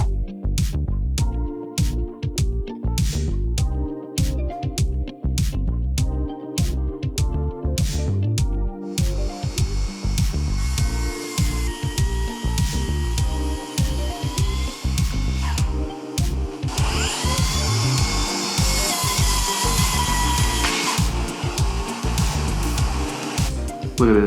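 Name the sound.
track saw cutting a live edge wood desk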